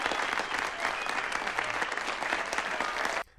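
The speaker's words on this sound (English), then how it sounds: "Getting a round of applause in a room full of them rugged dudes" A room full of rugged men in an 1880s Western saloon scene bursts into a dense, steady round of clapping and cheering that holds at full strength for about three seconds, then cuts off abruptly.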